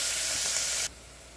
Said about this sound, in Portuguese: Enquanto a gente vai fritando o extrato aqui nessa panela